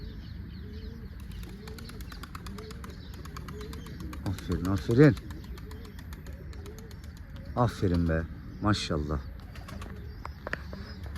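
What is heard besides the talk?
racing pigeon cooing while sitting on its chick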